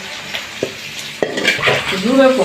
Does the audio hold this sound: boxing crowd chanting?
no